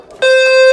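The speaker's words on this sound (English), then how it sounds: "Our low frequency sounder is obviously working." A low-frequency fire alarm sounder gives a single short, loud, steady electronic tone that starts abruptly and holds for about half a second.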